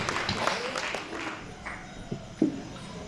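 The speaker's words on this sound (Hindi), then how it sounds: "ताली बजा के बड़ा सम्मान करें" Applause from an audience at a Hindi kavi sammelan poetry gathering in Kotma: a soft, scattered patter of clapping that thins out, fairly faint and distant.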